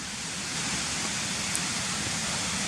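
Harmby waterfall in Yorkshire pours as a steady, dense rushing roar, continuous and even with no breaks, heard close and alone.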